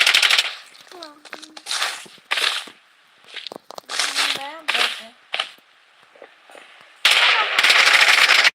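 Rapid automatic gunfire in the Blood Strike battle royale game, several loud crackling bursts separated by short pauses, with a long sustained burst at the end and spoken game callouts in between.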